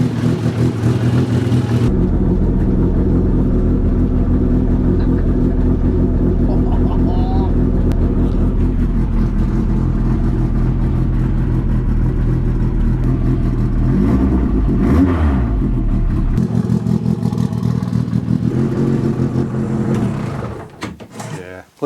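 A Ford Sierra RS500 Cosworth race car built by Andy Rouse starts up and idles loudly, then revs, with a deep throbbing engine note running throughout at close range and people talking nearby.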